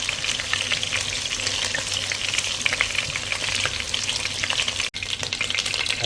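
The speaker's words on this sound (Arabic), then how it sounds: "هنحمرها بس تحميرة خفيفة كده وهنطلعها" Chicken pieces fry lightly in a pan with a dense, continuous sizzle and crackle, close and loud, with faint stirring and no voices.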